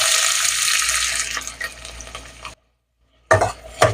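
Onions hiss and crackle loudly in hot oil for a couple of seconds, fading as they settle, then a brief silence before another burst of sizzling and stirring.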